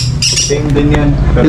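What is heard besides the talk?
pet parrots squawking, Indian ringneck and lovebirds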